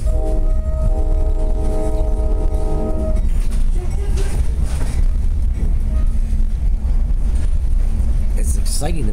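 Steady low rumble of a Music City Star commuter train running from Lebanon toward downtown Nashville, a continuous interior ride noise with faint tonal hum early on and a voice talking over it.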